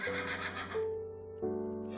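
A horse in the Minecraft video game gives a loud, clear whinny with a rising and falling tonal call, followed by a second shorter neigh, alone without talk.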